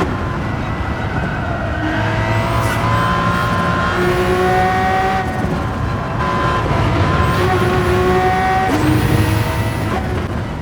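A fully tuned Aston Martin DP-100 VGT racing in Gran Turismo 7 roars loud and steady, its engine note climbing and falling through gear changes across continuous laps with no pauses.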